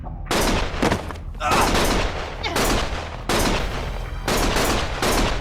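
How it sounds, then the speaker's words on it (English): Heavy gunfire in the action game Lost Judgment, dense sustained bursts of loud close shots coming in repeated waves with brief gaps between them, with a voice partly heard beneath. "Stop shooting!"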